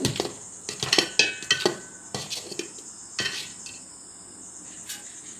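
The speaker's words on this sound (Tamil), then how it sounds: "அரிசி மாவு கொஞ்சம் கொஞ்சமாக போட்டு நம்ம கிளறி எடுத்துடலாம் மாவு" Rice flour dough for a Diwali kachchayam sweet, stirred in a pan with the back of a wooden dal masher, gives irregular scrapes and sharp metallic clinks in uneven bursts over a faint steady hiss.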